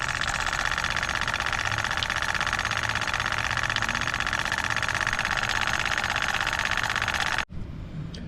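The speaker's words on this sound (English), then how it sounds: "now that the Roundhouse powered PM Research number 3 engine's done running" A PM Research No. 3 steam engine runs on low-pressure steam from a vertical boiler outdoors in a yard, giving a steady, dense mechanical hiss and chuffing that continues evenly before cutting off abruptly near the end.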